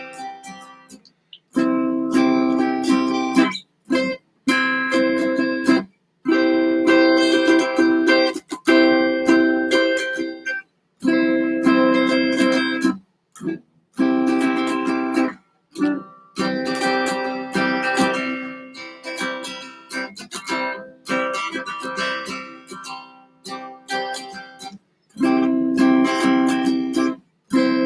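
An electric or acoustic guitar is played at intermediate level, working through chord shapes in strummed bursts that are broken by short pauses, close and clear with no talking.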